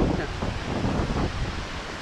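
Forest waterfall near a dam, heard as a dense, steady rushing roar with wind-like noise, continuous across the brief moment.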